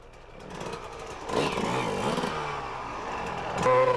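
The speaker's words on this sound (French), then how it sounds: "Les moteurs se mettent d'un seul coup à hurler." Motorcycle engines rev hard during the 1996 Gilles Lalay Classic enduro race. Several mid-distance engines climb and whine together, growing louder, with a sharper rev rising near the end.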